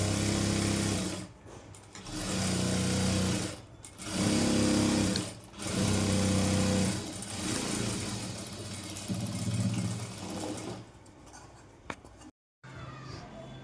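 Sewing machine stitching a Punjabi dress top, running in several bursts of steady mechanical whirring separated by short pauses, then slowing to lighter stitching before a brief stop near the end.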